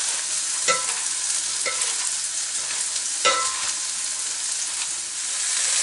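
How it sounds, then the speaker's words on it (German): Vegetables stirred into a hot pan for a rice noodle salad, a steady frying sizzle with a few distinct scraping strokes of the utensil at irregular intervals. "Dann gebe ich das Gemüse dazu und vermische das ein bisschen."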